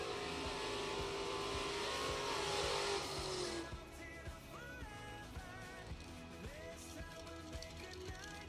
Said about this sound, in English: Martin, the 80 Camaro, dialed 654.